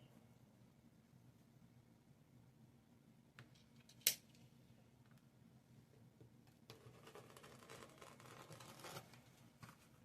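Scissors snipping lengths of ribbon into 16-inch pieces for a sunflower bee swag wreath, a few quiet cuts with one sharp snip standing out, followed by soft rustling and handling of the ribbon.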